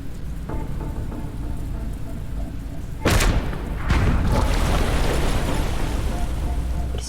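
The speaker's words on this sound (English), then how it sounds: "Guess I'll have to use the artillery then." Artillery fire in the video game Into The Breach, a sudden loud booming blast that cuts through a constant rain-like rumble, followed by a second heavy impact and a sustained rolling roar.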